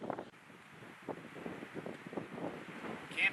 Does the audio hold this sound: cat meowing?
no